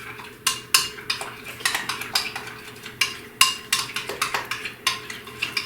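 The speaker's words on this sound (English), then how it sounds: "I'm going to mix all this together." A spoon mixes phyllo dessert filling with orange zest in a bowl, tapping and scraping against the sides in a quick, uneven rhythm of close, bright clinks.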